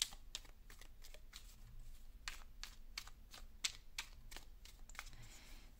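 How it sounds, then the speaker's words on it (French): Cards drawn and shuffled from a guidance deck, a run of quick soft clicking and riffling taps, close and quiet, with no talking. "je vais aller tirer d'autres petites cartes comme ça"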